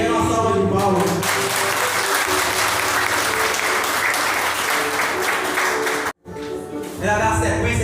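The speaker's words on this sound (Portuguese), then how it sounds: "Quero uma salva de palmas." Loud, sustained applause from a church congregation during a sermon on Nossa Senhora Aparecida, dense clapping filling the space, with instrumental tones underneath, then a brief drop to near silence before music returns.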